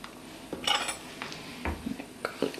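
A metal teaspoon clinks and scrapes against a jar and bowl while garlic powder is measured for slow cooker chicken, giving several sharp, close, irregular taps and knocks over a quiet background.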